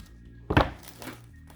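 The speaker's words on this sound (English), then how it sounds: "we do have a pull tab, I believe, somewhere right here, and let's go ahead and pull that off" Pull tab torn off the wrapper of an iPad Air 4 box: a single short, close rip-and-thunk about halfway through, with a fainter rustle after it in an otherwise quiet room.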